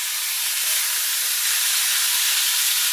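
Pieces of already-browned pork go into a hot pan for a pork and pineapple stew, giving a steady, loud, broad hiss of sizzling that holds evenly for about three seconds with no talk.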